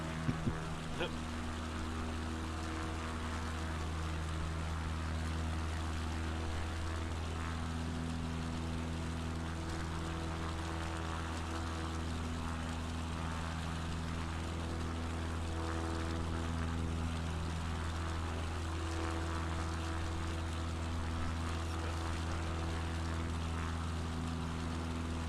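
A steady droning propeller engine of a CubCrafters XCub in Microsoft Flight Simulator 2020 hums throughout at a constant pitch, loud and unbroken, with nothing else standing out.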